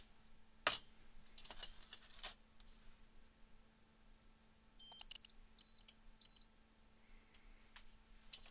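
Short electronic beeps and ticks from a kitchen cooker being set, a sharp bleep near the start followed by several fainter, scattered beeps over a steady low hum, with no voices.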